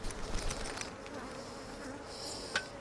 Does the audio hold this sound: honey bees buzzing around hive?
yes